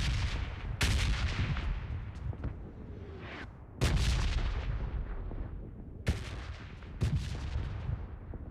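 Rapid gunfire bursts in a battle royale shooter, with loud sharp shots in several clusters and heavy booming impacts at intervals, no talking.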